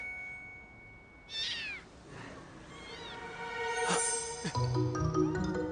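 A cat meowing several times in short, rising and falling cries over a few seconds, fairly faint and indoors, with some ringing tones and background clatter near the end.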